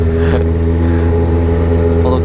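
A Yamaha XJ6 motorcycle engine runs close by with a loud, steady, throbbing drone, and the pitch rises briefly at the start and near the end.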